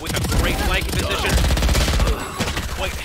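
Close-range Stinger submachine gun fire in a Valorant esports match crackles in rapid bursts beneath excited caster commentary.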